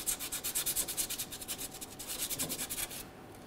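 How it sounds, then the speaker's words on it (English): Sandpaper worked by hand on the frame of a 1999-2006 Chevrolet Silverado 1500 near the rear leaf spring bump stop mount, giving quick rhythmic scratchy strokes, about twenty in a row, before stopping. "We can use some sandpaper down in this area."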